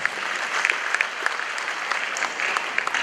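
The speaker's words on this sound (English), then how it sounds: "I think the Chief Justice deserves a round of applause" A crowd at a Supreme Court 150th anniversary celebration applauds the Chief Justice, with dense, sustained clapping and a few sharper individual claps standing out near the listener.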